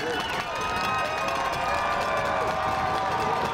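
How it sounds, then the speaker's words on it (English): Spectators at a Thanksgiving Day high school football game between Melrose and Wakefield give a sustained, roaring cheer. The crowd stands and shouts steadily at a distance with no letup. "This crowd is on their feet."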